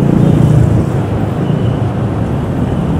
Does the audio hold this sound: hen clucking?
no